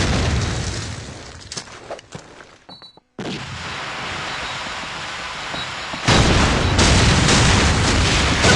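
Grenade blast in Call of Duty 4 during a competitive match: sharp, loud booms and bursts of gunfire, a brief near-silent gap, then a sustained heavy roar of explosive noise.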